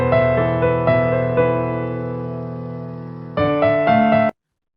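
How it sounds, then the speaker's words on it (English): Sad, ominous piano music plays loud and alone from an audio mixer's sound button, sustained chords ringing and decaying before a fresh cluster of notes, then cutting off abruptly. "Okay, piano music."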